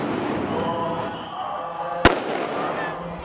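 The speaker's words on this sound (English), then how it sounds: "There have been gunshots fired." A single sharp, loud crack rings out once during street clashes in Bangkok, cutting through a steady wash of crowd and city commotion.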